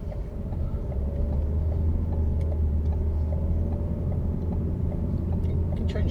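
A car pulls away from a standstill and accelerates toward a roundabout, its engine giving a steady loud low rumble throughout with road noise, no voices.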